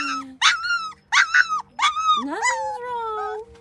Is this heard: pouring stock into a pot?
no